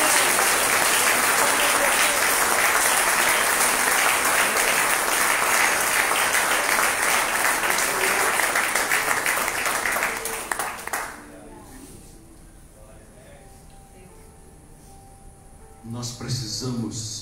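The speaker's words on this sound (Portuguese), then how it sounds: "Se você crê nesta palavra, aplauda Jesus, glorifique o seu nome." Church congregation applauding during a Portuguese-language sermon, loud sustained clapping from a crowd lasting about ten seconds before fading, followed by quieter speech with music in the background.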